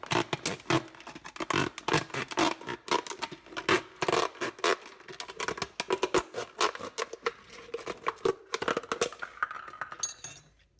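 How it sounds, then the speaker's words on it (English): A serrated knife saws through the base of a plastic bottle in rapid, rhythmic rasping strokes, dense crackly scraping bursts repeating close up for about ten seconds before stopping. "So you need to cut the bottom off the bottle"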